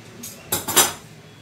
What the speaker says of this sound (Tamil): ரெண்டு சைடும் கிராஸாக கட் பண்ணிக்கலாம்